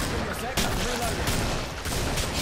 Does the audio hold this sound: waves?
no